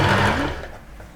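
A sewing machine runs briefly while stitching a crinkly fabric shirt sleeve around the sleeve head, a short motor whir that tapers off after about a second, with no talking.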